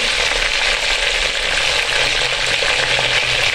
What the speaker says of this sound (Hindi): तो हम ऑयल में से निकाल देंगे अपने जिंगर चिकन को